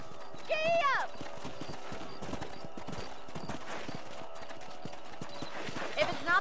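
Horse hooves clip-clop at a steady gallop in the video game Red Dead Redemption, a continuous rhythmic pounding close by, with a whinny near the start and someone speaking over the hoofbeats.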